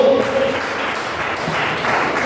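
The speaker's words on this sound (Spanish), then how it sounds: "Dale un fuerte aplauso a Jesucristo, por favor." A church congregation applauding during a Sunday fasting service: dense, steady clapping from many hands filling the room, loud and sustained with no break.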